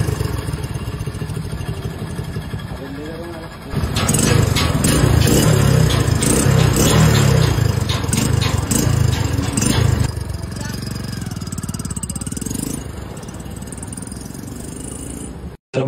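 A Hero Splendor motorcycle with a cleaned, modified silencer idles with a steady putter, then is revved harder for several seconds before settling back to idle, close and fairly loud.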